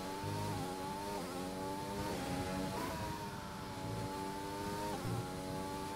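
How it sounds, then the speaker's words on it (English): A race car in a racing video game revs through rising and falling engine notes, with repeated downshifts and engine braking into corners, loud and continuous. "As you can hear Oleg maximizing the engine braking, revving out the car, going into the corners, trying to get it precise in."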